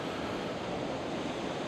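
Ocean surf at El Golfo on Lanzarote rolls as a steady, dense wash of broadband noise with some wind, unbroken and fairly distant, with no voices.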